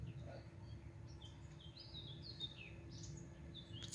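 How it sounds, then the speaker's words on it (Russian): Small birds chirp and tweet in the rocky Santa Brígida canyon on the Canary Islands, a scatter of short, high calls over a low, steady outdoor rumble. "Птички."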